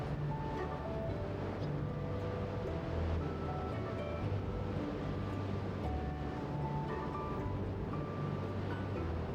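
Ocean waves at Kelingking Beach on Bali, Indonesia, roll in as a steady, dense roar of surf that stays continuous and fairly loud, with wind sweeping across the shore.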